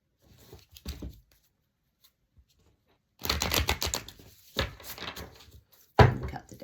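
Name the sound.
shuffling and cutting a deck of tarot cards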